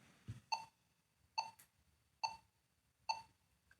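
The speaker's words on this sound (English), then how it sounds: "hear the click on the last beat of a triplet" Metronome clicks land on the last beat of each triplet, four sharp, evenly spaced ticks about one second apart, crisp and isolated over near silence.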